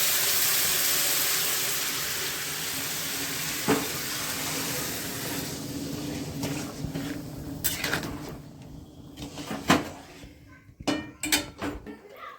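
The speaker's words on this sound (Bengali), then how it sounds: "এবারে দিয়ে দেবো জল" Hot water poured into a pan of frying rice while cooking homestyle pulao, a loud hiss and wash fading into quieter bubbling, with clinks and scrapes of a utensil against the pot toward the end.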